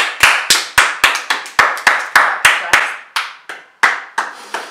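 One person clapping hands in a slow, uneven series of about fifteen sharp, close claps, each ringing briefly with room echo, with short pauses between.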